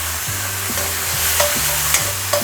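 Leftover Christmas bacon fries and browns in a pan, giving a loud, steady, close sizzle with faint stirring clicks and no voices.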